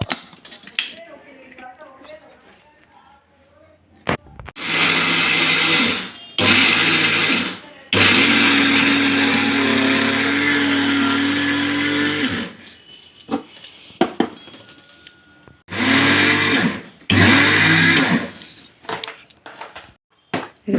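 A kitchen mixer grinder pulverizes roasted peanuts and red chili into a fine palli karam powder, running loud in three separate bursts of harsh whirring, with quiet pauses between them.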